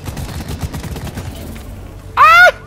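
An enemy fires its gun in the video game Deep Rock Galactic: a rapid run of close shots, then a sharp, whining tonal burst near the end.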